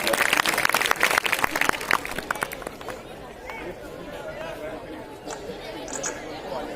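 Audience at a school award ceremony at an inter college gives a burst of applause mixed with chatter, loud at first, then fading after a few seconds into a quieter crowd murmur.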